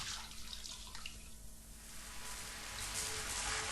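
Water from a shower hose sprays steadily and close, a hissing broadband rush that grows slightly louder toward the end, with no voices over it.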